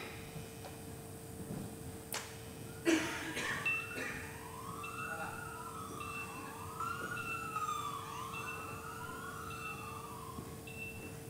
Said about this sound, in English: Gives you a siren